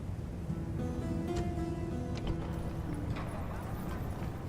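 Steady clip-clop of many horse archers' hooves in a Sassanid-era strategy video game, under a constant battle din, with faint voices and a horn-like tone in the background.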